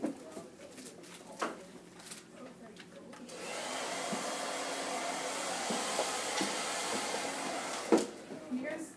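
A handheld hair dryer switches on midway and blows steadily, drying the front of a client's hair in a salon. The blowing is a moderate, continuous whoosh, with quiet scattered movement sounds and light handling noise around it.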